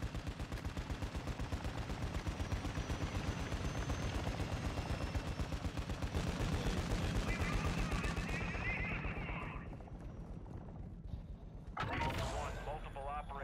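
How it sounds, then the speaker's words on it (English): Sustained rapid gunfire crackles in a Call of Duty DMZ match, near and loud for about ten seconds under a player's talk, then thins into a few scattered shots and a final burst. "I don't know if they're shooting at him or the enemy team"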